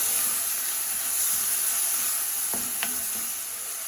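Garlic sizzling in a hot pan as it is stirred, a steady bright hiss of frying with a couple of faint scrapes of the utensil near the end, no talk.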